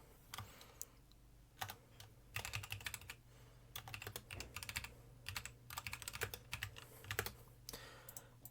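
Someone types on a computer keyboard while entering text into a PowerPoint slide, giving quiet, close clicks in irregular bursts with short pauses and a low hum behind.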